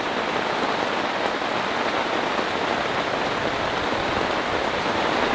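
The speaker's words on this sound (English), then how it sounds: "Now this is a rainstorm, everyone." Torrential rain pours onto a tarp shelter during an overnight storm, a dense, steady roar of drumming drops that stays loud and unbroken throughout, with no voices.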